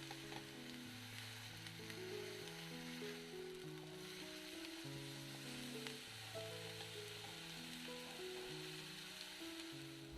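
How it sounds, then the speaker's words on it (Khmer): Two kinds of mushrooms fry in a pan, a steady, soft sizzle running the whole way through beneath louder melodic background music. "បងប្អូនទាំងអស់គ្នាត្រូវចៀនផ្សិតទាំងពីរប្រភេទនេះរហូតដល់វាឡើងក្រហមទាំងសងខាងនិងឆ្អិន"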